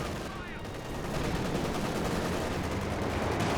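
Sustained MG34 machine gun fire in Company of Heroes 2, a dense continuous rattle of automatic bursts alongside other battle noise, steady and loud throughout with faint commentary underneath.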